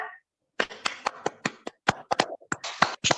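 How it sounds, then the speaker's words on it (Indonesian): A class in a lesson applauding a student group with a short burst of scattered, irregular hand claps, close by, with sharp gaps between the claps. "kita beri applause dulu untuk kelompok 1"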